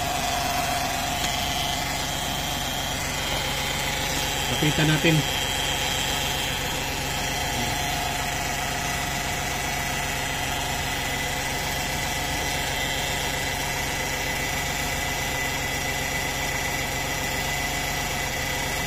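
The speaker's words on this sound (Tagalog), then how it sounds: "kung paano ang tunog ng mga automatic na may problema" An automatic car idles with a faulty, bearing-like noise, a steady dense hum and whir with a constant whine over the engine, continuous and close, while someone speaks briefly.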